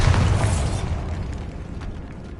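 Bombarda spell explosion in Hogwarts Legacy inside a tomb, a loud, heavy boom with dense rumbling debris that decays slowly over a couple of seconds.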